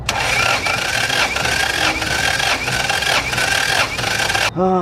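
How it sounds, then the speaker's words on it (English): A car engine on a weak battery cranks during a compression test, a loud, steady rhythmic churning of the starter without catching, then cutting off abruptly near the end. "I cranked the hell out of it that time"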